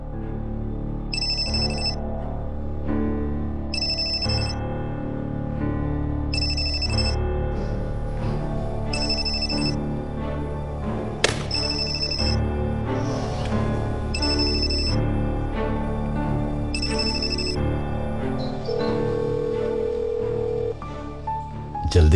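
A phone rings repeatedly in short even bursts over a loud, continuous dramatic music score in an Urdu-dubbed drama series, with a voice briefly heard underneath.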